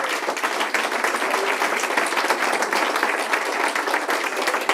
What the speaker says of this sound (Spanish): Un aplauso al Señor por esto.